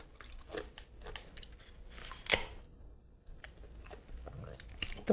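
Someone bites into crunchy mango and chews close to the mic, with scattered crisp crunches and one louder bite amid soft mouth sounds and quiet background.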